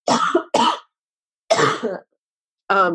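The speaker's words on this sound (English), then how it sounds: "Excuse me, I have to cough." A few short, harsh coughs close up, coming in quick bursts with brief pauses between them, the last sounding like a rough throat clear.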